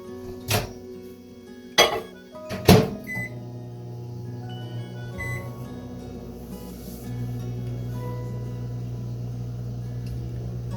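A household microwave of modest power heats a cinnamon roll in a mug, giving a steady low hum that runs alone for most of the stretch after a few sharp clicks and clatters of handling at the start.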